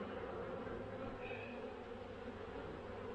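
A dense, steady buzzing drone of many honeybees robbing a hive outdoors, a continuous swarm hum with no pauses, fairly faint and even throughout.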